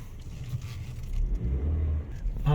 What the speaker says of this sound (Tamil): ஸோ இப்போ நான் வண்டி மூவ் பண்ணுறேன்.